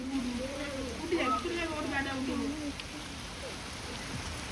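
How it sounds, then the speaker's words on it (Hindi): Heavy rain pours outside a house, producing a steady, dense hiss throughout while a voice talks over it. "बाहर बर्तमान जोरदार पूरा वर्षा होउची"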